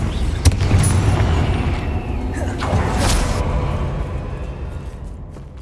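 Confringo fire-spell blast from Hogwarts Legacy: a sharp burst followed by roaring booms and a sustained rumbling whoosh, loud and close, with a voice speaking over it.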